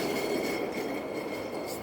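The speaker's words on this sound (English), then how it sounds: "As the tram goes by." A tram rolls past on a street in Lviv, giving a steady, moderately loud rumble of wheels on rails with no voices.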